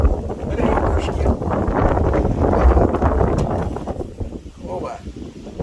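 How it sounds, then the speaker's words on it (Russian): Strong squally wind with rain buffets the microphone in loud, rumbling surges that rise and fall in gusts, with voices underneath. "у нас шквалистый ветер, порывы сильнейшие, дождь"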